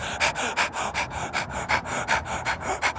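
A dog pants rapidly and steadily, a rhythmic string of quick breathy huffs close by, with no other sounds.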